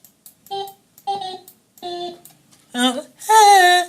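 Short sung syllables with an electronic, stepped pitch quality, growing louder and brighter toward the end, where a sustained robotic-sounding note closes the phrase.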